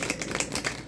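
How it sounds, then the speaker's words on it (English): Tarot cards are shuffled in a brief, quick run of soft papery taps and flutters, heard close up for about a second. "get a couple more good shuffles in and we will get started"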